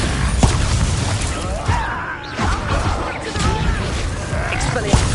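A Bombarda spell blast in Hogwarts Legacy amid a chaotic duel, with loud booming crashes and whooshing impacts piling over game music and voices.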